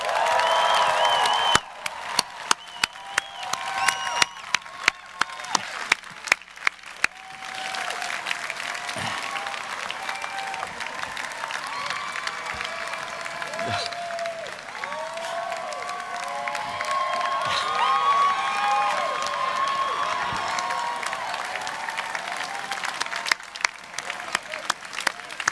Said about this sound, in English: let's give your family and friends a round of applause